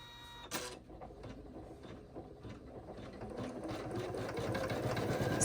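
An embroidery machine sews a double stitch in the hoop with a steady, rapid mechanical whirring and clicking that grows gradually louder, close by, after a brief clatter at the start.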